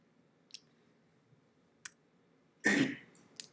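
One short, harsh cough from a man in a quiet room, a single loud burst near the end after a few faint clicks, with no speech around it.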